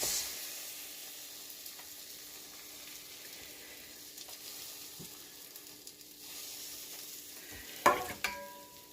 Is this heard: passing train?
no